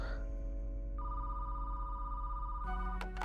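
A telephone rings in the Fern murder-mystery video game, a sustained electronic bell tone starting partway through over a steady low background hum, with a louder ring burst near the end.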